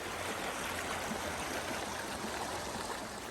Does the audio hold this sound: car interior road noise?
no